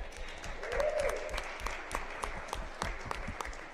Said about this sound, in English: Can we clap for our district office?